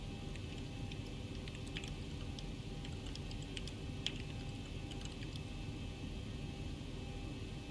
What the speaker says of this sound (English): I'm just typing to Jorge here